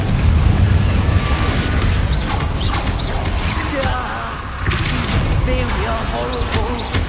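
Fiery Confringo spell blasts in the Hogwarts Legacy game, loud booming impacts and crashes in a busy combat soundscape, with game voices and effects overlapping throughout.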